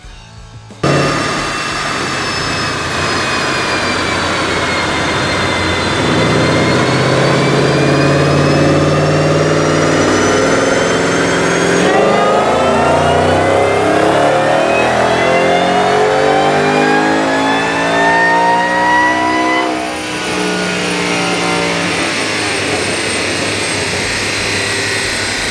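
A tuned 2014 Roush Mustang GT on a chassis dyno is held at a steady loud drone, then winds up through the gears with rising pitch in long sweeps, sounding close and powerful with no talking.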